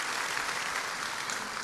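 Indonesian church congregation applauding for God during a sermon, a steady wash of many hands clapping at moderate volume, brief and continuous with no talk over it.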